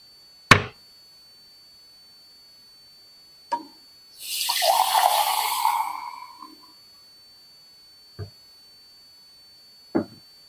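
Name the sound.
water running from a tap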